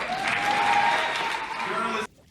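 Applause from the audience at the Ebony Power 100 2021 awards for the Breakthrough Creator Award winners, a steady dense wash of clapping that cuts off abruptly near the end.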